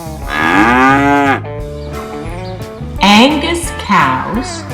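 A young Angus beef cow in a farm pen moos loudly and up close, one long low call followed by two shorter moos, with background sound between them.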